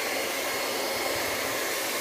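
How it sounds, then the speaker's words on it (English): A hair dryer blows steadily and close while hair is styled with a round brush, a constant even whoosh of airflow with no talking. "going down on our brush and down with our dryer"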